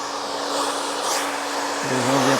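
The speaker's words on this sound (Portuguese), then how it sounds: "Primeiro eu estou trabalhando o quê? Secando esse cabelo." A hair dryer blows steadily while drying hair in a salon, a constant close whooshing hiss with a faint motor hum that rises slightly near the end, with no voices.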